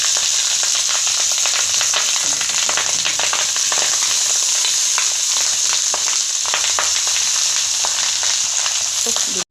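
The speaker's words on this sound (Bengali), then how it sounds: "রাইসটা আমি ভেজে নেব।" Rice fries in a hot pan for wedding-style fried rice, giving a loud, continuous sizzle with crackling and the scrape of stirring throughout, close up and with no voices.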